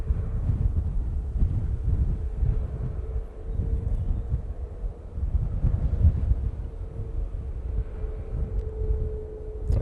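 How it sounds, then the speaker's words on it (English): Wind gusting at Manchester Airport buffets the microphone in a low, uneven rumble that swells and eases, with a faint distant engine drone beneath and no talking. "the wind has got up quite a bit in the last few minutes"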